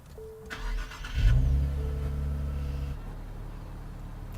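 A Nissan Z Nismo's engine cranks and fires, surging to a loud rev before settling into a steady, rumbling idle close by.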